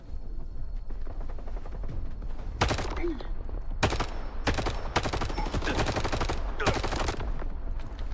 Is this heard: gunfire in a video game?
yes